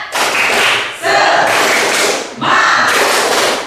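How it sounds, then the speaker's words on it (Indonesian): A seated group performs a rhythmic Indonesian spirit clap during a teachers' training session, three loud bursts of unison clapping and thumping, each about a second long, separated by brief gaps. "Tepuk semangat."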